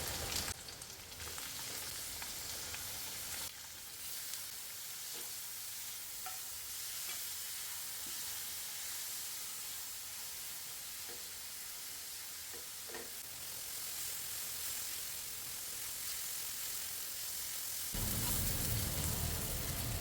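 Shallots and green chilies fry with curry leaves in a pan, giving a steady, close sizzle like light rain, with occasional stirring scrapes and a louder hiss near the end.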